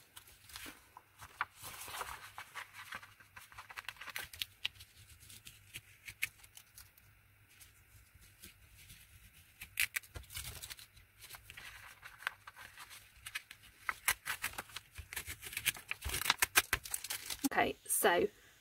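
Masking material being gradually peeled off an abstract Mondrian-style painting: close, soft ripping and crinkling in short bursts, with a busier stretch near the end and talk over parts of it.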